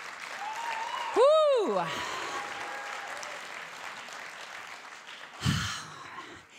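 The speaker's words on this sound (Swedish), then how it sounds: "Sen ger vi de här härliga lovsångarna och musiker en härlig applåd också." A church evening meeting crowd applauds worship singers and musicians, steady clapping with a loud whooping cheer near the start and a brief breath or vocal burst later.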